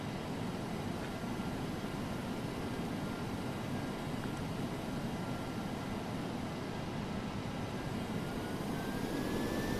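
DC-8-73F jet engines in Flight Simulator X give a steady, loud, broadband roar that holds constant throughout with no spooling changes, alone and unbroken.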